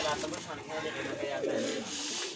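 Breeder pigeons coo in a loft, among them a red-headed bird, their soft rolling calls mixed under and around a voice that talks through most of the moment.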